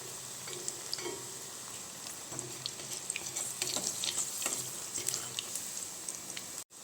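A potato and onion snack fries in hot oil and is turned over, a close, soft sizzle broken by scattered crackles and light stirring clicks, with no talking.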